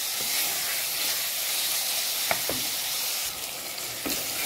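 Washed, unsoaked rice tipped into a simmering sauce in a pan, giving a loud steady sizzle and hiss with brief stirring scrapes, close and with no voices.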